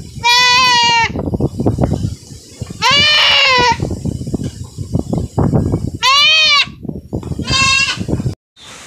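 Farm goats bleat loudly and close by, with four long wavering cries spaced a few seconds apart. Shuffling and rustling noises fill the gaps between them.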